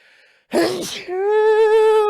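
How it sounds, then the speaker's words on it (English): One loud, abrupt sneeze bursts out close up, followed by a drawn-out voiced tone that holds steady for about a second. "Epic sneeze."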